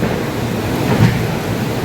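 Heavy rain pours outside a truck in a dense, rumbling roar heard from inside, continuous and loud with a brief swell near the middle.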